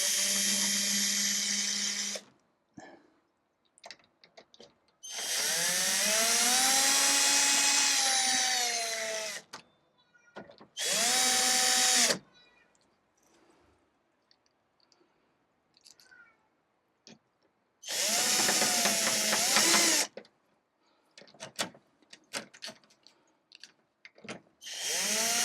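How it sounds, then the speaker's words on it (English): A handheld power drill drives the bracket screws back in on a reverse osmosis water filter during a routine pre-filter change. It gives four loud, close whirring bursts of varying length, with quiet handling clicks between them and no speech. "Here's my drill."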